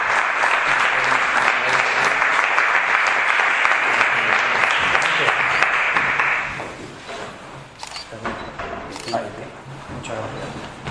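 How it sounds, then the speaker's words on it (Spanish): Strong audience applause closing a conference talk, dense and loud for about six seconds, then fading into scattered claps and murmuring voices. "Le damos un fuerte aplauso al final."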